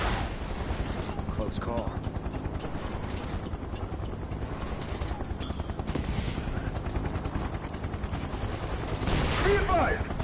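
Rapid automatic gunfire in a PS4 shooter, with bursts rattling throughout and a brief spoken remark heard over the shooting.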